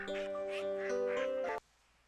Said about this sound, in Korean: 오리 꽥꽥